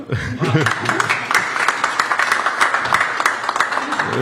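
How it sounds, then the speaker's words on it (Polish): Steady, close applause from an audience fills the hall at a ceremonial presentation of Fryderyk Chopin's manuscript of the song "Poseł" at the Sejm, with dense rhythmic clapping holding evenly for about four seconds after a brief voice at the start. "Poproszę o brawa."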